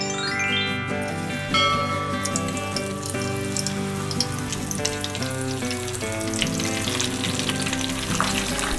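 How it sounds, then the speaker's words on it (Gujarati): Paneer pakoda, a Gujarati fasting snack, deep-frying in hot oil gives a steady close-up sizzle and bubbling with light clinks from stirring, and no talk. "આ પકોડાને ગરમ તેલમાં ડીપ ફ્રાય કરી લઈશું."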